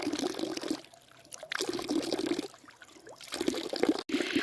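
Water trickles and splashes from a water tank in bursts that rise and fall, close by and moderately loud, with no talking, in a hill village.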